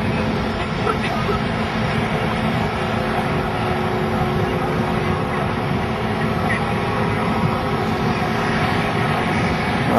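Engine of a crashed Citation jet lying in the bay at Atlantic City, powering down as a steady broadband roar that holds at constant loudness, with voices faintly heard over it.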